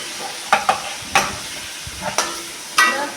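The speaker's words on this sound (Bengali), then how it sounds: "আরো কিছুটা পনির আমি দিয়ে দিচ্ছি এখানে" Paneer frying in oil and being stirred in a pan, with a series of sharp scraping stir strokes over a crackling sizzle, close and fairly loud.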